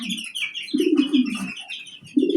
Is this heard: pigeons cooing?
yes